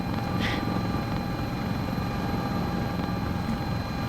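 A simulated S76 helicopter in a Jurassic World game mod, its rotor and engine drone steady and loud throughout, with no talk.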